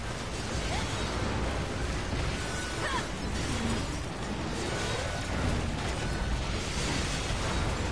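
Dense, continuous explosions and crashing bursts from combat in the action video game NieR Automata, a steady wall of booms and debris at moderate loudness with no pauses.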